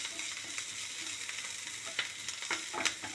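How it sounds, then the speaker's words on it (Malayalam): Chopped onions and curry leaves sauté in oil in a pan with a steady close sizzle, and a few faint stirring scrapes break through it. "നന്നായി ഒന്ന് സോട്ടാവട്ടെ, സോഫ്റ്റ് ആവണം."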